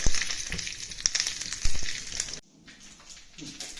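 Mustard seeds, dried chilies and curry leaves fry in hot oil for a simple tempering, crackling and sizzling loudly up close before dropping abruptly to a quieter, softer simmer.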